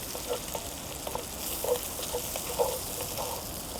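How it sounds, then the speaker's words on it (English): Onions frying in a Dutch oven for potatoes, with a steady sizzle and a few soft scraping stirs, close and at moderate loudness. "Dump in my bag of onions. Give that a quick stir."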